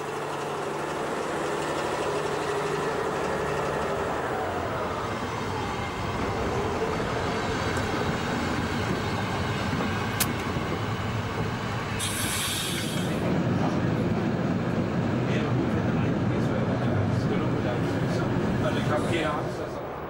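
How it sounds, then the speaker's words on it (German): A Reichsbahn V60 diesel locomotive hauls a special train near Hartenstein, its engine rumbling steadily throughout with rail and wheel noise rising as it passes close by, loud and continuous, with a voice talking over it. "Der Zug ist auf dem Weg nach Zwickau, hier in Hartenstein."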